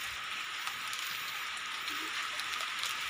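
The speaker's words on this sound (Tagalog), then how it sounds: "Naabutan na naman ng ulan." Steady rain hisses continuously, an even wash of drops falling on a surface with no voices.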